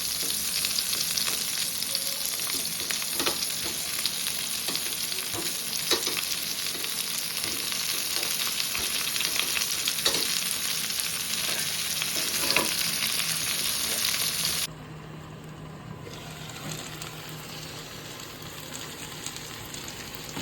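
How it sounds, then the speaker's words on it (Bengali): Mixed vegetables for Bengali sukto fry in a pan with a continuous crackling sizzle and light scraping stirs, then the sound drops quieter and more muffled near the end as a lid goes on; no one speaks. "তারপর ওই সবজিগুলো হালকা হাতে একটু নাড়াচাড়া করে আবার ঢাকা চাপা দিয়ে দিতে হবে"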